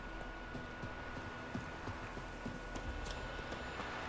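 Horse hooves clip-clop at a steady walking rhythm in The Witcher 3: Wild Hunt, faint and even beneath a low ambient game hum.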